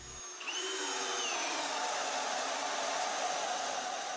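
A Maximum cordless drill spins up with a 1 3/8 inch bit and bores steadily, a continuous high whirring hum that holds its pitch and stays fairly close, with no talk.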